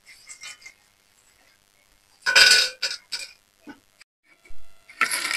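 Metal spoon clinks against a frying pan as fried yam chips are lifted out of hot oil, several short bright scraping clatters separated by quiet gaps, close and fairly loud.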